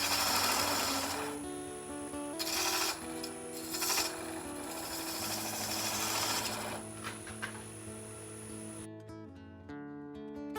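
A turning chisel cutting wood on a lathe while making captive rings, giving a steady loud scraping, rasping hum over the motor's drone, with brief louder bursts of cutting before the tool lifts off near the end.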